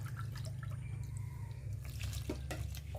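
A cup of water is poured into a bowl for peanut rempeyek batter, a short trickling, splashing stream with light drips, close by and fairly quiet.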